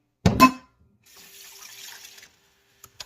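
Warm water runs from a kitchen tap for about a second into a measuring cup. It is a close, steady hiss, set between a few sharp knocks at the start and near the end.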